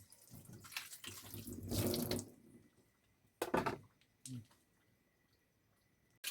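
Tap water gushing from a newly installed household water supply in short runs, with a faucet turning on and off between bursts of flow, close by and fairly quiet.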